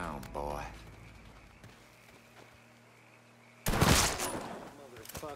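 Gunfire in Mafia III: a short opening of broadband cracks and rumble, then a quieter stretch with a low steady hum, before a loud, dense burst of gunfire near the end.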